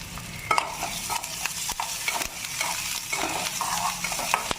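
Fresh curry leaves fry and get stirred in a pan for a vegetable chukka, giving a close sizzle with scraping stirs and light clinks of a utensil on the metal.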